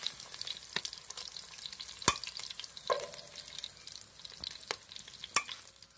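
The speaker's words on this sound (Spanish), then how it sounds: "Los bisteces que ya se vayan friendo, los vamos a ir retirando de aquí del aceite." Pork steaks fry in hot oil, giving a steady soft sizzle broken by sharp pops and spatters and an occasional stir or clink, with no voices.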